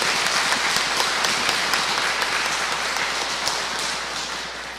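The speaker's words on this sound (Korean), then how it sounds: "감사의 박수 한번 보내주십시오." An audience applauds in thanks at the close of a lecture by a professor at an open academy event, a dense, steady wash of many hands clapping throughout, fading slightly toward the end.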